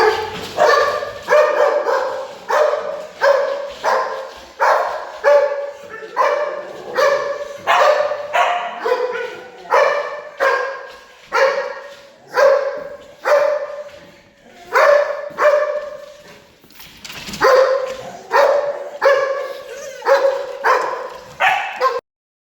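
A reactive dog barks in rapid repeated bursts, loud and close, with occasional yips and whimpers mixed in, sustained with few pauses and no talk.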